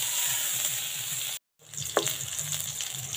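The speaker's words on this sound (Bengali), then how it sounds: "লাল লাল করে ভাজতে লাগবে।" Green chili, garlic and bay leaf fry in hot oil for a hilsa fish head and taro leaf dish, a close, continuous crackling sizzle with a brief silent break and a sharp clink as frying resumes.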